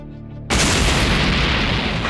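A sudden, huge energy explosion bursts in after half a second of low rumble, then sustains as a loud, dense roaring blast that keeps going without letting up, set against a shaking lookout in a Dragon Ball game.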